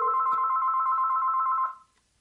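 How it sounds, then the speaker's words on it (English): A home telephone rings over a speakerphone, giving one steady electronic warbling ring that holds for about a second and a half and then cuts off, leaving quiet. "So I can call my home phone. I can turn it on speaker."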